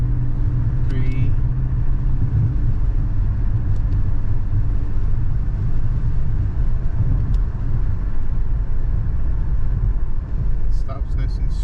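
Chrysler 300 sedan driving along a road, a steady low engine and tyre rumble that stays loud throughout as the car brakes to a stop, with a brief chirp near the end and talking over it.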